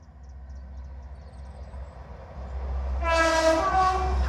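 A vintage train passes with a low rumbling engine drone that builds, then a loud, harmonically rich horn blast sounds twice near the end.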